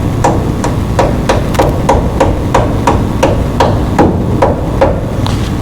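Hammer taps on a part being fitted snugly over a rocker during an engine build, about a dozen steady, evenly spaced sharp strikes, close and loud over a low background rumble.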